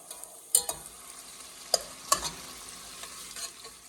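A spoon stirring tomato sauce in a pot for venison in red wine, a few scraping knocks and clinks over a soft sizzle, close and fairly quiet.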